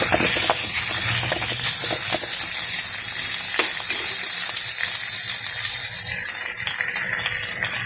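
Pennywort greens (vallarai keerai) sauté in a hot pan with a loud, steady, close sizzle and hiss that runs unbroken throughout, with faint stirring scrapes.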